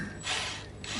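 A torque-set driver, set to a low torque, clicks and ratchets as it drives a screw into the scratch plate of a partscaster Telecaster guitar: a close, dry mechanical whirr with two brief bursts, no voices.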